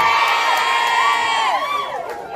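A large crowd at a Pasig campaign caucus in Barangay Bagong Ilog shouts and cheers loudly and continuously, a dense roar with whoops that tapers slightly toward the end.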